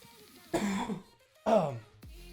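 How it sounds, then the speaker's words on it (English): Two loud coughs close to the mic, separated by a short pause, followed by a brief low sound. "Sorry, I was holding that cough for quite a while."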